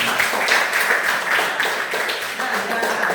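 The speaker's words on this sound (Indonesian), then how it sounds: "Sekali lagi tepuk tangan untuk kalian semua." A classroom of students claps together in a dense, continuous burst of applause lasting a few seconds, close and steady.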